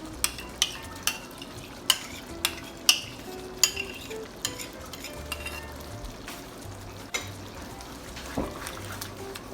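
A spoon knocks against a pan in sharp, rhythmic clinks while white sauce is stirred into a vegetable pasta sauce. A low simmering sizzle runs underneath.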